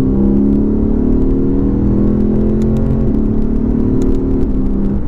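A 2015 Lexus RC F pulls hard in third gear, its engine a loud, close, steady drone with the pitch rising gradually as it accelerates, no voices over it.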